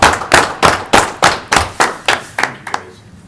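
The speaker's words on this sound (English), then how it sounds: "we just need to give a round of applause to our chief" Several people clap together in a round of applause for the police chief at a city council meeting in Napoleon, Ohio, with about a dozen distinct, fairly loud bursts that thin out and fade toward the end.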